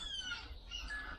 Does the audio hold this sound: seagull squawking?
yes